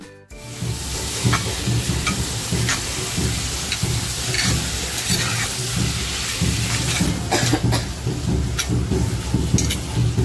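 Cooked mutton tripe (vajri) is tipped into a hot frying pan and stirred, giving a loud, continuous sizzle with scraping and clattering stirring strokes throughout.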